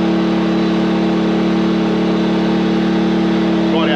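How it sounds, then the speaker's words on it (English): An Engel generator set charging a Jackery Explorer 2000 Plus power station runs close by with a loud, steady, high engine drone and a strong constant hum that holds level throughout. "I knew the Jackery was pulling a bit of power out of that generator just by the way the Engel generator is revving."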